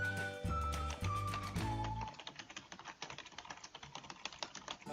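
After a short musical jingle, rapid, close keystrokes on a computer keyboard follow as someone types into Notepad, continuing steadily to the end.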